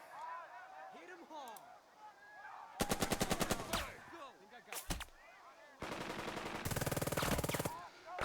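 Machine-gun and rifle fire from the war strategy game Burden of Command crackles in rapid bursts of sharp shots, with several distinct volleys spread across the moment over a quiet battlefield background.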